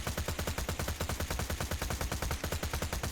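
Rapid automatic fire from Marik's Mahal, a submachine gun in the video game Borderlands The Pre-Sequel, with steady evenly spaced shots forming a continuous burst throughout.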